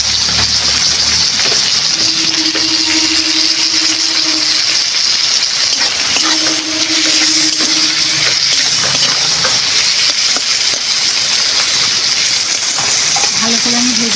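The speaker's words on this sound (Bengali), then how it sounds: "ভালো করে আমি ভেজে নেব।" Kashmiri chili powder frying in a pan with oil, a steady close sizzle that runs unbroken throughout, with faint stirring scrapes and no talk.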